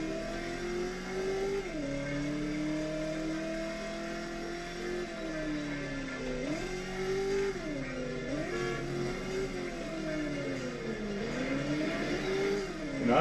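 Car engine from the video game Driver, revving continuously with rising and falling pitch as the vehicle accelerates and shifts, loud and close throughout with no talking.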